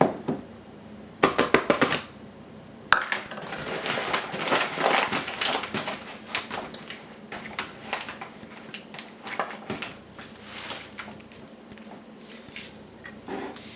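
A spoon stirs a thick flour and water sourdough starter in a bowl, giving irregular scraping and knocking bursts, close up and loud at first, then quieter clicky stirring.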